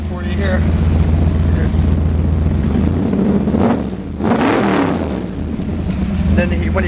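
A customized 1965 Chevy Nova engine revs loudly up close, with a rising surge in the middle and a throaty idle underneath, while someone talks over it.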